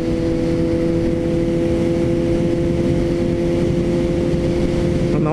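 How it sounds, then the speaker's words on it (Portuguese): A Suzuki GSX-S750A motorcycle cruises on the road, its engine holding a steady, loud drone mixed with rushing wind throughout. "de vez em quando é bom andar de moto"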